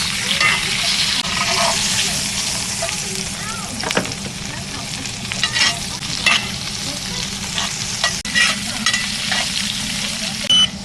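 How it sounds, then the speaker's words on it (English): A steak sizzles hard in a hot pan while being flipped and basted on both sides, a continuous loud frying hiss broken by clinks and spatters of the spoon, close up. "Flip the steak and baste both sides."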